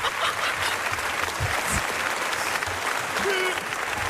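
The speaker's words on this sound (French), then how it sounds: "on peut l'applaudir" Studio audience at a French radio comedy show breaks into continuous, dense applause, with a few brief voices and cheers mixed in.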